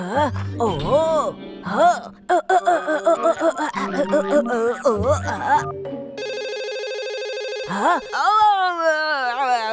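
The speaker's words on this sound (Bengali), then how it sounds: "মনে হয় ও আবার ফোন করছে।" Cartoon telephone ringing in a warbling electronic tone for a couple of seconds, preceded and followed by animated character voices talking and laughing.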